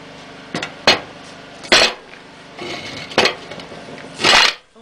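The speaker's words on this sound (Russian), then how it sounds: "Теперь, чтобы набралось тепло, мы ложим камушки сюда" Stones set down one by one onto the top of a stainless steel cottage heating stove with a cooktop, giving five separate sharp clinks and knocks with short pauses between them, close and with no talking.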